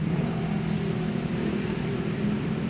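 Busy street traffic on Regalado in the Philippines, a steady low rumble of car and motor engines idling and crawling nearby, continuous and fairly loud with no voices.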